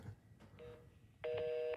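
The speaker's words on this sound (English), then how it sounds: "It's just beeping. I hear it beeping over there." Telephone beeping on a call: short electronic tones, then a louder steady beep near the end, faint and heard over a phone line.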